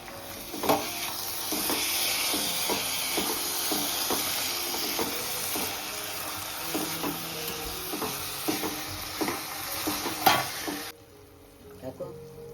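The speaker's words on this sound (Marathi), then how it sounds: "आता आपण बासमती राईस ॲड करू ते पण मस्त परतून घ्यायचं" Basmati rice sautéed with melted jaggery and roasted coconut in a pan for sweet coconut rice, a steady sizzle and hiss under repeated scraping stir strokes close by, ending abruptly into quieter scrapes.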